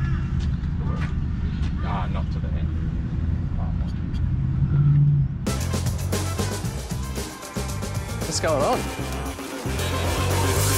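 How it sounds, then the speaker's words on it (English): Cars hoon around a carpark on the set of a large TV commercial, engines droning and revving with a sharp rev burst late on, while people talk nearby over the noise. "Cars are hooning around the place"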